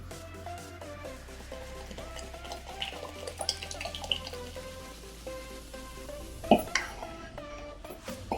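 Water is poured into cooked dal for sambar, making soft intermittent splashing and sloshing with a few clinks of a pot or spoon, heard close but quiet beneath steady background music.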